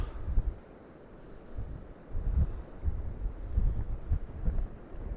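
Wind gusting across an open harbour wall on the coast, a low rumbling buffet against the microphone that rises and falls in uneven surges, with no voices present.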